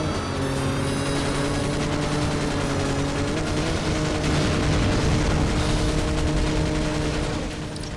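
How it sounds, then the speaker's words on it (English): Missile explosions and a dense barrage of gunfire-like blasts in the shooter game James Bond 007: Agent Under Fire, on the streets of Bucharest. The roar is loud and continuous for the whole stretch, with steady musical tones running underneath. "Missiles!"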